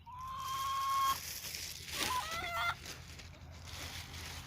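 Free-range chickens cluck and call faintly, a few short squawks and drawn-out calls over quiet background hum.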